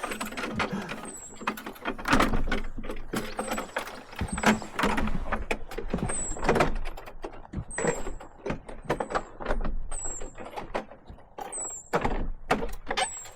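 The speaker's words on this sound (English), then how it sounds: "giving us really, really old keys that are really difficult to open doors with" An old door at historic Fort Carlton is worked open with a very old key, giving repeated metallic clunks, rattles and scrapes in an irregular rhythm, close by, with faint high chirps recurring throughout.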